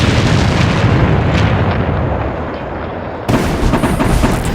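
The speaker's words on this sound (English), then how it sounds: "The most powerful explosion is audible up to 120 miles away." A powerful explosion of an ammunition stockpile sends out sustained, loud rumbling blast noise, with a sudden fresh surge toward the end as another detonation hits.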